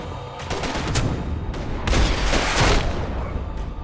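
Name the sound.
gunfire in a video game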